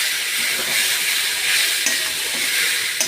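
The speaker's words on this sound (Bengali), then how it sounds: "টমেটো, কাঁচা লঙ্কা দিয়ে আবার ভাজবো।" Eggplant, onion, tomato and green chili fry in a pan for Bengali begun bhorta, giving a loud, steady sizzling hiss throughout with no talk.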